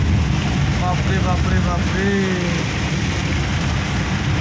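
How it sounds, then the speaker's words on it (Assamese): Heavy rain pours down in Guwahati, a dense, steady hiss on surfaces throughout, with a voice exclaiming briefly over it. "কি হ'ব এনেকুৱা বৰষুণ হ'লে?"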